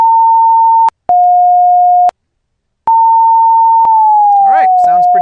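A pure sine tone is heard alone, loud and steady: two short steady tones at slightly different pitches with a gap between them, then a longer tone that glides smoothly downward from about 907 to 716 Hz. Faint speech enters near the end.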